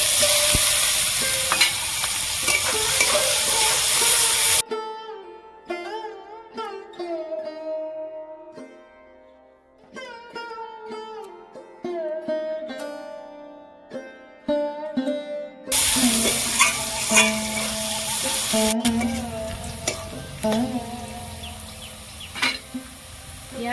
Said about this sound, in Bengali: তেলের মধ্যে পেঁয়াজ কুচি দিয়ে দেবো